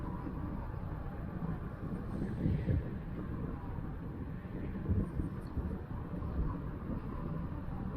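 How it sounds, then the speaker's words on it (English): Steady low rumbling wind buffeting the microphone, with gusts swelling and fading throughout and no speech. "It's pretty windy."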